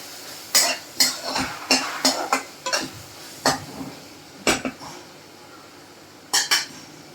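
Carrot halwa is served from a pan into a bowl, with a spoon scraping and clinking against metal in irregular close knocks over a low kitchen hum, and no talking.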